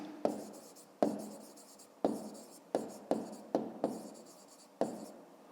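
Pen writing out a fifth-grade math exercise on paper, a series of close, crisp scratches and taps at irregular intervals, each stroke starting sharply and trailing off, in a quiet room.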